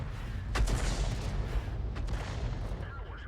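Tank gun shell fired at a Type 57 tank in a video game lands nearby, a sharp boom followed by a rumbling impact over steady battle noise, a second fainter blast later.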